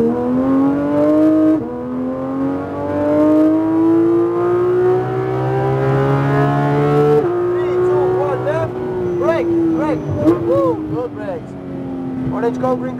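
A 2021 Porsche 911 GT3 RS revs hard as it accelerates on a racetrack at Homestead-Miami Speedway, its engine note climbing steadily through each gear and dipping at the shifts. A driving instructor talks over the steady, loud engine.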